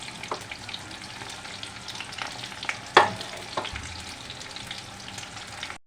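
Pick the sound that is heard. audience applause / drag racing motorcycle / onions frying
onions frying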